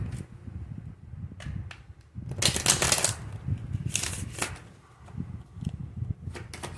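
A deck of tarot cards being shuffled by hand, with bursts of riffling and sliding card noise, the loudest flurry in the middle, between quieter rustles and handling sounds.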